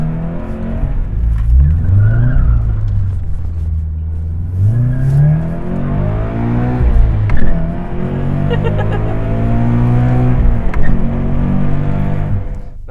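A car on lowering springs with a new clutch revs and drops repeatedly through several heel-toe downshifts, pitch rising and falling in steady sweeps, close and loud throughout with a brief tire squeal.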